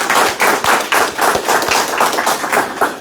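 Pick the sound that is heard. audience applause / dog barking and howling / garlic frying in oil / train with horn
audience applause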